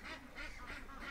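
A duck quacks in a quick run of four or five nasal calls, fairly close and steady, with no voices over it.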